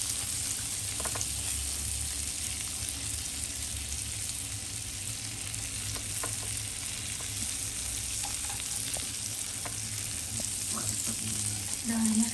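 Shrimp and tuna sizzle steadily on a Japanese yakiniku grill at home, a constant close frying hiss with a few faint clinks and small pops throughout.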